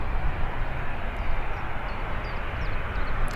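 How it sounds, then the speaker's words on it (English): An aircraft passing overhead at Birmingham Airport, heard as a loud, steady, broadband engine roar that fills the whole short stretch with no talk over it. "I hope the microphone did it justice as it was flying overhead."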